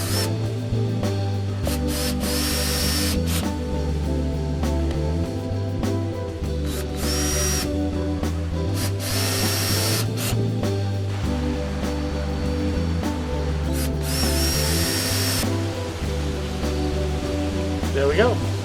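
A power drill drives screws into wood with glue, several short high-pitched whirring bursts separated by pauses, close and loud, with a steady background hum.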